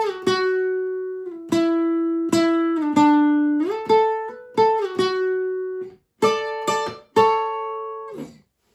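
Solo electric guitar picks a riff, a clean run of single notes and brief double-stops with steady rhythmic attacks and short gaps, close and clear with no talking.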